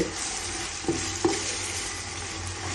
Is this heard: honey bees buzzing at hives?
no